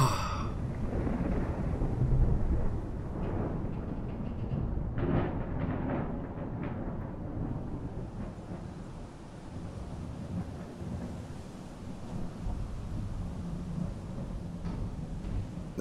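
A thunderstorm in the Fallout 4 video game: deep rolling thunder over steady rain, loud and sustained, with a rumble that slowly fades and a brief voiced exclamation near the start.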